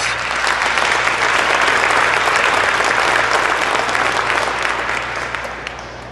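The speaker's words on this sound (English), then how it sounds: "Give them a round of applause." Sustained applause from an audience at a Madison Heights and Hazel Park State of the Cities address, steady and dense for about five seconds before tapering slightly at the end.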